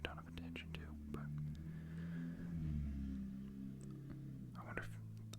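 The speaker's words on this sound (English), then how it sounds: "I wonder if there's a big motorcycle outside." A big motorcycle passing outside, heard as a low, droning engine rumble that swells and fades faintly in the background beneath close, soft whispering.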